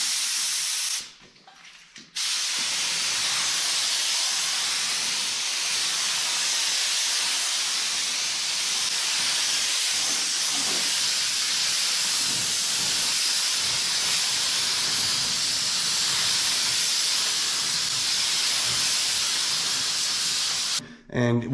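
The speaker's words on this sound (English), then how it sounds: "I'm going to turn my pressure up just a little bit, and we're just going to kind of just fog it on there" Paint spray gun fogging a metallic drop coat onto a 1959 Dodge Coronet, a steady loud hiss running almost without a break after a brief pause near the start.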